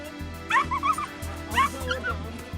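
Puppy rescued from earthquake rubble gives soft, high whimpering yelps in two short bursts, close by over a steady low background hum.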